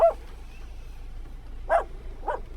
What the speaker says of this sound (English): the dog that loved to yap